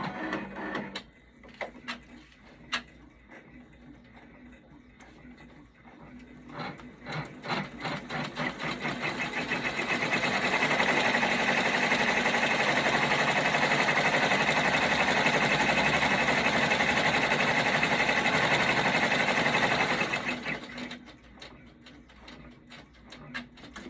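An embroidery sewing machine stitches the placement outline for a character-face appliqué, building from scattered mechanical clicks into a steady, loud, rapid needle whir that runs for about ten seconds before slowing and stopping.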